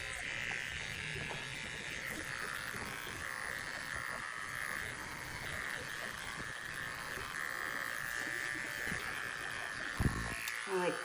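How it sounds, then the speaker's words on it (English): Electric clippers with a size 30 blade buzz steadily while shaving between the toes of an excited Bernedoodle during a grooming session, a continuous close hum with faint talk underneath. "I like to shave so you can see this whole back toe, and then you just shave out all in between."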